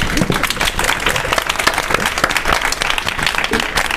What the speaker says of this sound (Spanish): pues entonces aplaudimos, ¿no?